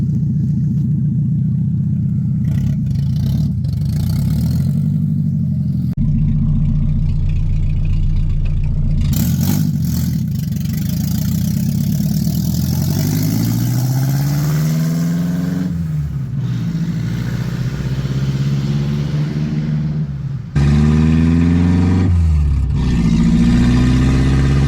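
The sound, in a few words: Nissan 300ZX with KA24DE engine swap on test drive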